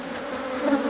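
Honey bees hum in a dense, steady buzz, close and continuous, with a slight swell in loudness near the end.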